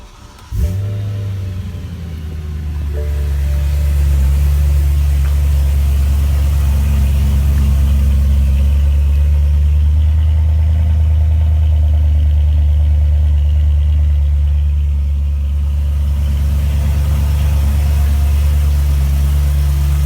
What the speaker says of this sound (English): just wanted to show you guys here how this exhaust sounds like in my garage closed